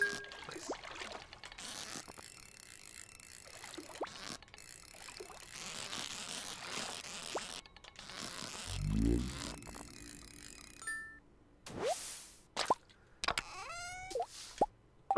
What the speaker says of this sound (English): I was hearing items drop into the water.